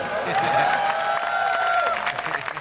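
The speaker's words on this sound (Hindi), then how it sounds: "आनी चाहिए ताली अपने आप।" Audience applause and cheering at a mushaira in Roorkee, a dense crowd roar with clapping running throughout, a sustained whistle-like tone riding over it, and scattered voices within.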